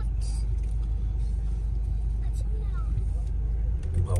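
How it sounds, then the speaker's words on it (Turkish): Heavy road traffic near the entrance to Sofia, Bulgaria, heard from inside a car: a steady, loud low engine and tyre rumble with faint passing-vehicle sounds, continuous throughout. "Ama bayağı bir trafik var"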